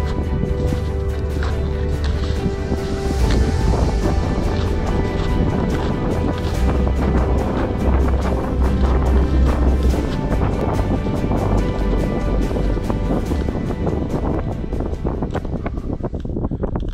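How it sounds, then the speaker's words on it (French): Strong headwind buffets the microphone on a steep mountain slope during a snowshoe climb toward the Pic du Plan de la Serre, a loud continuous roar with gusty surges throughout. "on a le vent de face là"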